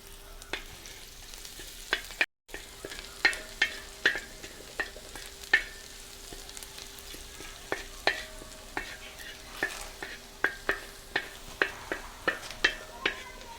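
Chopped ginger and garlic fry in sesame oil with a soft sizzle beneath a run of sharp, regular spatula taps against the pan, roughly one or two a second, close and without speech.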